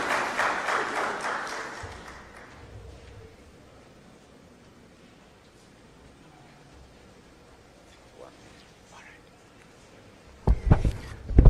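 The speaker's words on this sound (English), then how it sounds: "Let us give a round of applause to Collins." A round of applause at a nuclear conference in Siaya, Kenya: clapping for about two seconds at the start, fading into quiet room noise, then a loud burst of clatter near the end.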